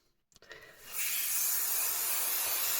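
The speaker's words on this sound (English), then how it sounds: "I'm going to use a bit of spray glue." After a couple of faint clicks, a can of spray glue lets out a steady, loud, continuous hiss that holds evenly to the end.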